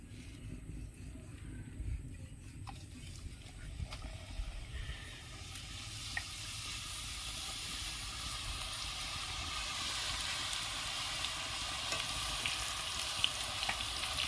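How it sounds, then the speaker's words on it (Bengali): Nimki dough pieces drop into hot white oil in a kadai; a quiet hiss swells into a loud, sustained bubbling sizzle that keeps building, with no voices. "কড়াইয়ের তেলটা গরম হয়ে গেছে। এরপর আমরা নিমকিগুলোকে ছাড়বো।"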